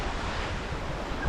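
Sea waves wash onto a seaweed-strewn beach at the tideline, a steady broadband rush with wind buffeting the microphone and no voices.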